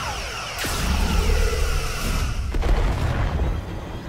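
Starship weapons firing in the Star Trek Resurgence video game, two booming energy blasts with whooshing tails over a loud continuous rumble of battle effects.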